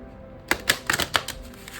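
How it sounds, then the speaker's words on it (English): A rapid series of crisp clicking and riffling taps as a deck of tarot cards is shuffled close by, about five distinct snaps over a second. "So I'm going to shuffle this deck here"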